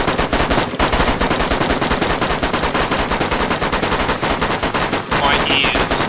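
Rapid automatic gunfire in the DayZ video game, a dense continuous burst of loud, close shots with brief gaps, voices faint beneath.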